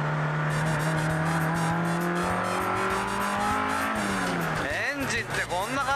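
Tuned Toyota AE86 engine revving hard and freely toward 8800 rpm, a loud continuous rising howl that climbs steadily, then drops and blips quickly near the end, with people talking over it.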